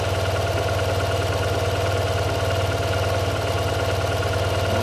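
A motorcycle engine idles steadily at about 1100 RPM during a 16k service with the side case being installed, a constant low throbbing hum that stays unchanged throughout, close and fairly loud, with no talk.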